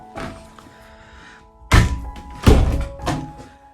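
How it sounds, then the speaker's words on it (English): A double-glazed porch door swings shut, giving three solid thunks in quick succession, close and fairly loud, with a faint lighter knock before them and no talking. "Let me just close this door."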